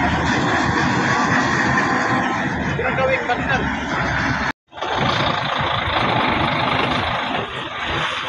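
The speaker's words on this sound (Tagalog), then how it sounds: "Ito yung unang truck na ikarga ng Il City Poseidon." A truck's engine idles and rumbles steadily while it is loaded onto the LCT Poseidon 25 ferry at Tacloban port. The broadband drone stays loud and continuous, with one brief dropout partway through.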